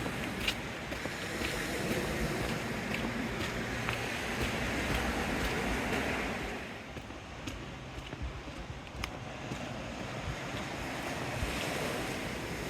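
Ocean waves breaking on the seaward side of a seaside shore, a steady, broad wash of surf with wind noise, continuous and fairly loud throughout, with no voices.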